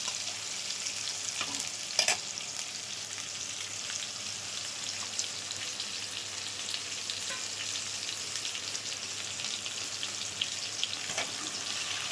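Mutton fries with onion, tomato, bay leaf, cumin and crushed whole spices, a dense steady sizzle like rain running throughout, with occasional faint stirring clicks and no talking.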